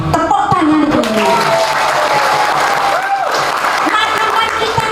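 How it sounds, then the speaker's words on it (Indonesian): An audience at a village innovation competition in Indonesia breaks into loud, continuous applause, thick clapping with cheering voices and some amplified tones woven through it. "Tepuk tangan dulu."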